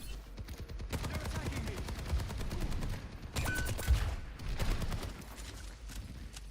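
Rapid automatic gunfire in the video game Battlefield 6 during a solo battle royale match, long bursts of fast shots with short pauses and a continuous loud roar of combat.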